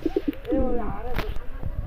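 Domestic pigeons coo close by, a few soft rounded hoots followed by a longer throaty rolling coo, with some rustling and light knocks around them.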